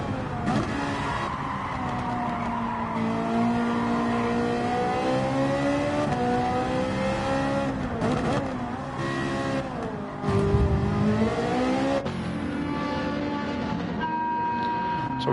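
Race car engine in Gran Turismo 7 droning loudly throughout, pitch rising and falling through gear changes and corners, with a deeper surge near the middle and someone talking briefly over it.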